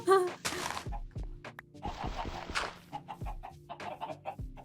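Video game chickens cluck and squawk in short, repeated bursts with some rustling, while a voice speaks briefly nearby.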